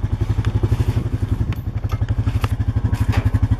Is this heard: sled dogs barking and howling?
no